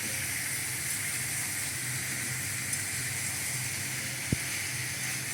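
Ridge gourd and pumpkin curry frying in a pan, a steady close hiss and sizzle running throughout with one brief clink near the end.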